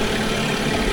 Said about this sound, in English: the engine doesn't sound very happy about it